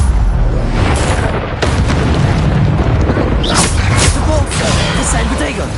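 A Bombarda spell blast in the Hogwarts Legacy video game: loud, dense booming bursts and whooshes filling the whole stretch, with layered combat effects and repeated impacts continuing without a break.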